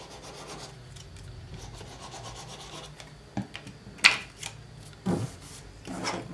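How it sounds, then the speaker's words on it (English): A bone folder rubs and creases paper on a Cricut-cut honeycomb box, making soft, close scraping strokes with a few sharper brushes and taps. The sounds stay quiet with no talking. "I'm going to take my bone folder and just kind of give that a rub."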